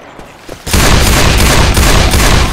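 After a brief quiet lead-in, loud, continuous rapid gunfire erupts in Left 4 Dead 2 on The Passing campaign in Expert Realism mode. The shots stay dense and close for about two seconds, with no voices.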